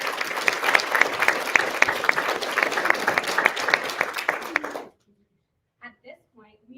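An audience at a Women's Equality Day event applauds in a full, steady burst of clapping for about five seconds, then it cuts off abruptly and a voice briefly speaks.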